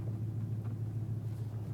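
An off-road car crawls over desert rocks in first gear, its steady low engine rumble continuous and close throughout, with no talk.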